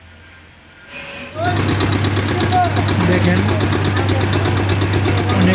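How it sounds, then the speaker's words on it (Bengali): A vehicle engine is started up and then settles into a steady, loud idle with a rumbling low drone, close by, while someone speaks briefly over it. "তো এখন আমরা ইঞ্জিনটা স্টার্ট দিয়ে দেখব।"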